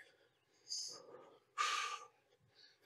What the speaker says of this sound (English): Try to control that breathing.